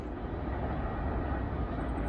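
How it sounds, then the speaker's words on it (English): A freight train rolls past on a CN line, a dense, steady rumble of railcars with hazardous tank cars at the rear, loud and unbroken throughout. "Ending the train off with some hazardous tanker cars."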